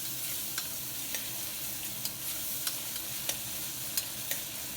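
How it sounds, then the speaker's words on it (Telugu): Ginger garlic paste is stirred into fried onions in a pan, giving a steady close sizzle and sharp, evenly spaced scrapes and taps of the spoon, with no voices. "ఇప్పుడు ఆనియన్స్ వేగిన తర్వాత 1 స్పూన్ అల్లం వెల్లుల్లిపాయ పేస్ట్ వేసి బాగా కలుపుకొని"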